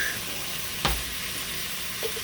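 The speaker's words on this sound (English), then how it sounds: "We're going to be grilling onions and peppers and sausage." Onions, peppers and sausage sizzling in a cast iron Dutch oven give a steady close hiss, with one sharp knock of a utensil and a faint later clink.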